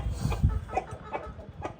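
An Aseel rooster clucks in short, repeated bursts close by, over low rustling farmyard noise.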